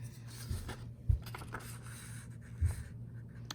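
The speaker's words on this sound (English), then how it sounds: "So fold this edge to this edge." A sheet of paper being folded edge to edge into a paper airplane: soft close rubbing and sliding with a few sharper crease presses, quiet and unhurried.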